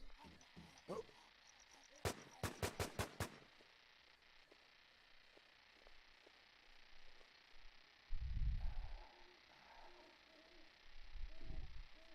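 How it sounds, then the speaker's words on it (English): Rapid burst of five or six sharp gunshots in the WarZ survival video game, loud and close together, followed by quieter thumps and rustling movement. "Why is he shooting me?"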